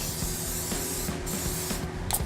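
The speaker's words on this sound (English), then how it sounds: "I'm gonna spray that with some olive oil" Olive oil sprayed in a steady hiss onto salted skirt steak in a grill pan, a continuous close-up aerosol spray lasting a couple of seconds with no talk.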